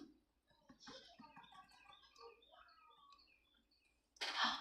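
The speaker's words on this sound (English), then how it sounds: "There's birds outside." Several birds chirp and twitter at a moderate distance in a quiet setting, short bright calls overlapping, followed by a louder burst of noise at the end.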